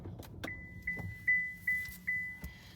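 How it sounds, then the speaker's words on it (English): A car being switched off: a few evenly spaced electronic beeps ring out close by, mixed with clicks and a brief jangle of keys over a low rumble. "Let me turn off my car really quick."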